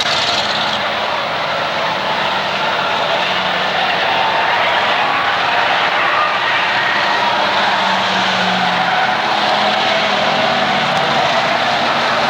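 Eight-cylinder enduro race cars roar around the Waterford Speedbowl oval in a continuous loud engine drone, with tire noise sustained throughout and no voices.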